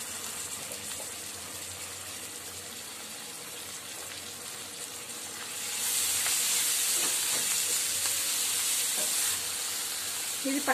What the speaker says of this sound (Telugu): ఇది పచ్చివాసన పోయేదాక కాసేపు వేయించుకుందాం